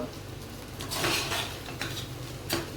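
Spoon scraping and clinking in a pan while sabudana khichdi is stirred with oil for a fasting meal, a few soft metallic knocks and scrapes, close and fairly quiet.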